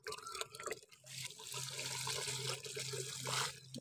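Water splashes and trickles steadily from a can onto a curry leaf plant, a close, continuous pour with soft dripping and no talk.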